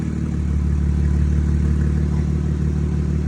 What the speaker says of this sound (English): in park, give it a rev.